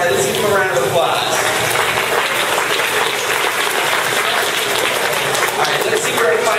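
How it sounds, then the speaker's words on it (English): Audience applause at a live studio tour stunt show at Disney's Hollywood Studios, a dense, steady wash of clapping that fills the whole stretch at close range with crowd noise mixed in. "let's give them a round of applause"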